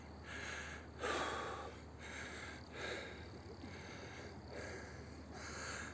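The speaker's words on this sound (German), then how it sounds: "Wenn man mich jetzt wieder keuchen hört." Heavy, rhythmic panting from someone climbing steep stairs in Wertheim Castle, close and breathy, about six or seven labored breaths spaced roughly a second apart with no talking.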